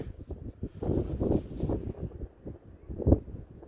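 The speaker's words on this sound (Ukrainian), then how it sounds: "Стаю спиною до вітру, щоб не заважав він." Outdoor wind blows on a bank of the Dnipro river during metal detecting, a close, gusty, broadband rumble buffeting the microphone, rising and falling with a stronger gust near the end.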